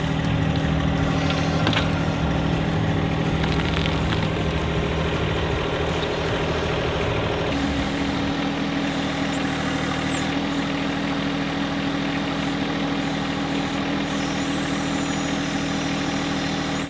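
A tractor engine idles steadily at a trenching site. Its low, even rumble stays close and continuous throughout with no talk.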